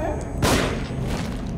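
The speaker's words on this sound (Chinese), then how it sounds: "先开枪再说" A single close gunshot in The Evil Within lands sharply just under half a second in, a loud thumping blast that trails off into rumbling game noise.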